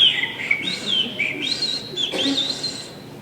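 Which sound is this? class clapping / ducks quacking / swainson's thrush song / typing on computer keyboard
swainson's thrush song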